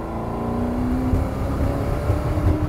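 A 1966 Ford GT40 Superformance engine revving loudly and close, a steady rumbling drone that rises in pitch and then holds, with no talking.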